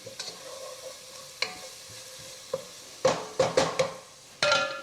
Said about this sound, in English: And it's already smelling great, so you stir that around.